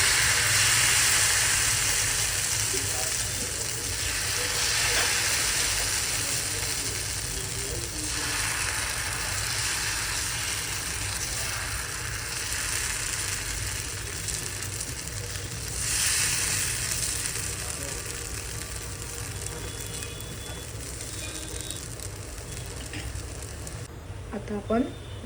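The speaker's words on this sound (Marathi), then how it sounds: "आता आपण ह्याच्यावर डोश्याचं पीठ सोडूया." Dosa batter poured onto a hot pan sizzles and hisses in a steady, continuous fry that holds for the whole stretch, with a low background rumble underneath.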